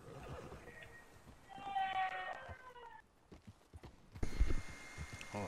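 Hooves clip-clop at a steady pace and a horse whinnies midway in the video game Red Dead Redemption 2, with soft game-like ambience and a few brief thuds near the end.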